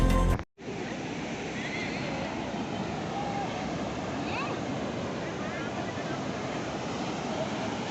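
Sea waves breaking on the beach at Paradip, a steady broadband surf roar filling the whole clip after a brief cut near the start, with faint background sounds mixed in.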